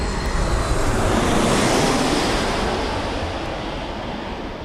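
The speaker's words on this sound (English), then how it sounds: "So Ryanair Max 8 in from Perpignan." A Ryanair Boeing 737 Max 8 arriving at Birmingham Airport gives a loud, broad jet roar that holds steady, then slowly fades, with no voices.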